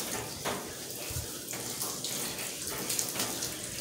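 Water runs steadily from a tap while a dog is bathed during grooming, a close continuous splashing with soft irregular splatters as the stream hits fur and tub, and no talking.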